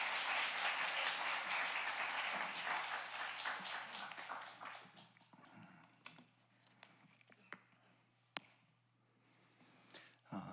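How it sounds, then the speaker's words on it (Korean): Congregation applause in a church welcoming a guest pastor, fairly faint and fading after a few seconds into scattered claps and small noises. "큰 박수 함성으로 환영합니다."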